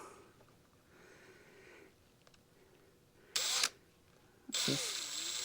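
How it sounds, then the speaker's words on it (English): Two short, loud whirring bursts of a power drill boring into a deer skull for mounting stand out against a quiet background with faint rustling and handling noises. "feeding my drill in till it hits the skull"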